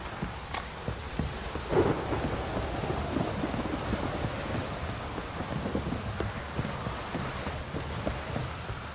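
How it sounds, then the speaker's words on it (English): Steady rain patters all around in The Witcher 3: Wild Hunt video game, with a low rumble of thunder rolling underneath, fairly quiet and continuous with no voices. "This downpour's a bastard"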